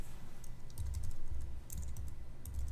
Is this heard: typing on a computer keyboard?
yes